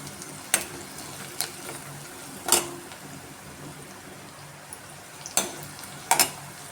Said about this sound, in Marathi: कांदा चांगला परतून घेते